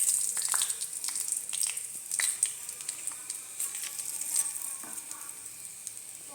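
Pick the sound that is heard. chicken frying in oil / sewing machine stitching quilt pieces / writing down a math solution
chicken frying in oil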